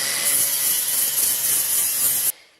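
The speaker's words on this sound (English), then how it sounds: "you can see how I'm oscillating the disc as I do it, guys, to try and keep it moving all the time" A rotary sanding disc grinds steadily against a wooden workpiece for a DIY motion simulator, giving a loud, continuous abrasive hiss that cuts off abruptly near the end.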